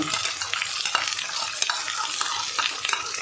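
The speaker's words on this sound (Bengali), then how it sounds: "চিংড়ি মাছটা মশলার সঙ্গে ভালো করে একটু কষিয়ে নেব" Shrimp sizzle and fry in spice paste with bay leaf in a home kitchen, for a potato-shrimp curry, while a utensil scrapes and stirs the pan in irregular strokes close up.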